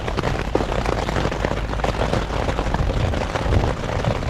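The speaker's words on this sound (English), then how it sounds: "Lightning, thunder." Heavy rain drumming steadily with deep rumbling thunder during a 4 a.m. night thunderstorm at a motorcycle campsite, loud and continuous with no voices.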